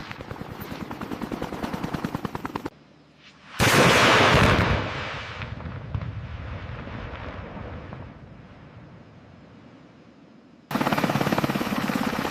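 A helicopter fires a rocket salvo, a loud roaring launch burst cutting through rattling rapid fire, then a long fading rumble before dense rapid firing resumes; heavy, close and dramatic, with no talking.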